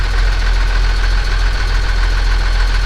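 A farm tractor engine idles steadily at close range to build up brake air pressure on a hill, a continuous low rumble with a faint knock and vibration throughout and no talking.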